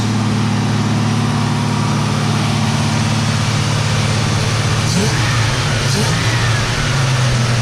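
HP 440 V8 with a new flat-tappet cam running at elevated speed during break-in, a loud, steady drone that wavers slightly near the end as revs begin to ease.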